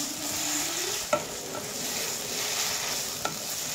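Kochu saag hilsa head curry sizzling gently in a pan as ground fried cumin is stirred in, a continuous soft hiss with two sharp spoon taps against the pan.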